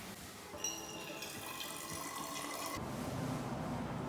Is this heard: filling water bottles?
yes